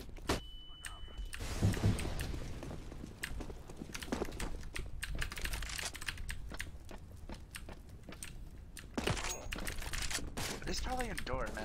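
Counter-Strike gunfire on the Cache map comes as bursts of sharp rapid shots mixed with steady keyboard clatter, fairly faint overall, while a voice talks at moments.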